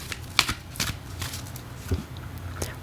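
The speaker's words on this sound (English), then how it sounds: "Let's draw a card for your person." Oracle cards are drawn and shuffled from a deck, a few quick papery flicks and snaps, close and soft, without talk.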